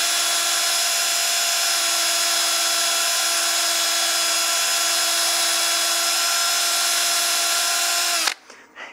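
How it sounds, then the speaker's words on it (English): A lathe spins a wooden succulent planter at about 600-700 RPM while its rim is sanded with 320 grit, giving a loud, steady, tonal motor whine that cuts off abruptly near the end, followed by a few soft knocks. "I'll start sanding with a 320 because that rim's cut really cleanly"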